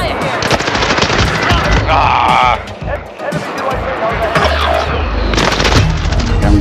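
Rapid automatic gunfire bursts in a Modern Warfare match on Rebirth Island, loud and close, with shots crackling in quick strings amid explosions and game noise, a player's voice speaking briefly over the fighting.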